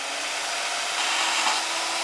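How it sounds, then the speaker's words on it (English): A power saw cuts a 5-inch spacer in half for a Mighty Moto build, giving a steady, loud, continuous whine that holds even throughout without pause. "I'm just gonna cut it dead in half."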